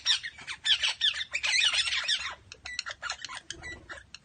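Australian twenty-eight parrots in Perth squawk while being fed. A dense burst of loud, harsh, overlapping squawks is followed by sparser, choppy calls and chatter nearby.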